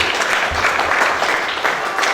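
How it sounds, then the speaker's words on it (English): An audience claps at a magazine launch event honouring an embassy official, a dense steady round of applause from a crowd at moderate distance, lasting the whole stretch without speech on top. "Please, another applause for the second secretary of the Cameroon Embassy, Mr. Jean-Baptiste Goudou."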